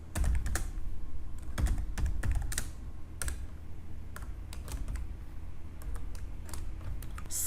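Rapid typing of C code on a computer keyboard, a steady run of close, crisp key clicks with uneven rhythm and occasional heavier strokes, no voices.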